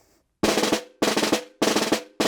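Close, loud snare drum plays an eighth-note roll built from multiple-bounce strokes, heard as four dense buzzing bursts separated by brief gaps, each roll sustained about half a second.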